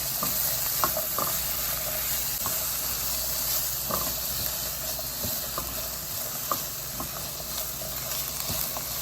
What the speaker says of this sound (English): Vegetables. Saute for 30 seconds.